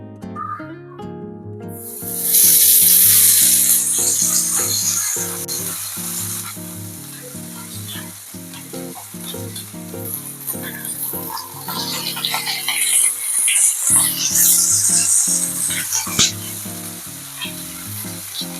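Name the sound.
fish frying in hot oil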